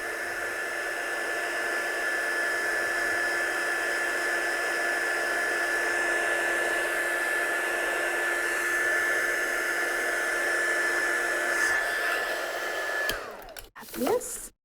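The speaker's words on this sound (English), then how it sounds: "So we're just going to give that a little heat set." A heat tool blows steadily for about thirteen seconds, setting embossed ink on a handmade card. It is a loud, constant whirring hiss that cuts off abruptly near the end, followed by a few brief handling clatters.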